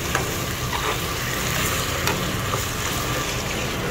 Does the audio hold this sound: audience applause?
no